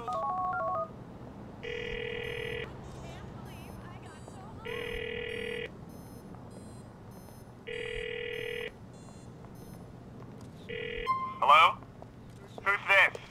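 Phone call in Grand Theft Auto IV: four evenly spaced electronic ring tones, each about a second long, repeat steadily, then a short tone and a few sharp clicks and beeps close the clip as the line connects.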